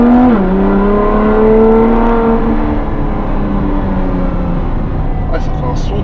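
A Ferrari LaFerrari in camouflage wrap revs its engine up close, a loud, steady, rising and falling mechanical drone with strong tonal harmonics that holds throughout.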